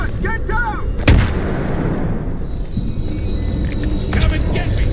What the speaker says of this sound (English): Explosion! Get down!